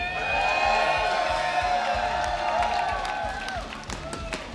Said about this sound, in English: let me hear you shout if you want XL to come back in this series